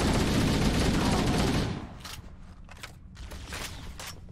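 Assault rifle in the video game Halo CE firing a dense, rapid burst for about a second and a half, followed by scattered mechanical clicks and rattles.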